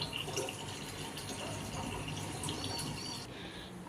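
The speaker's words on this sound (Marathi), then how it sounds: "पाणी आलं होतं तर इथे मी वरती भांडं भरण्यासाठी लावलेलं आहे" Tap water runs into a vessel, filling it with a faint, continuous gushing splash that stays steady throughout.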